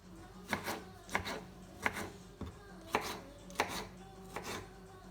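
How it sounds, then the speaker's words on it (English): Five tomatoes being chopped on a cutting board for a vegan vegetable broth: a steady series of about eight crisp, close knife strikes at an even rhythm, with no talking. "I've got 5 tomatoes, because it's nice to add a bit of tomato in. Chop them up."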